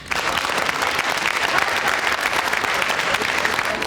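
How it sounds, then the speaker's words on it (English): An audience at a scholarship program celebration applauds the families, dense steady clapping filling the room loudly from start to finish with no speech over it. "So I think we need a round of applause for the families."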